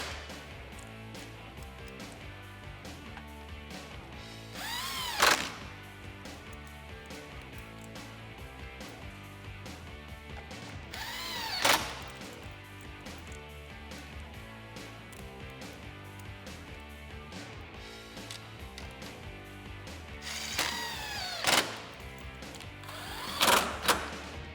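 Power tool driving the factory grille bolts, four 10 mm along the top and two 8 mm at the bottom corners, back into a 2018-2020 Ford F150: a steady mechanical whir runs throughout, with several brief louder bursts as bolts seat.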